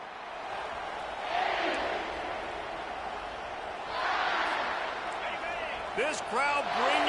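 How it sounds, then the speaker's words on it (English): Roaring stadium crowd in the EA Sports College Football video game, a broad sustained rumble that swells in waves, with some cheering and talk mixed in. "This crowd bringing the energy and noise early."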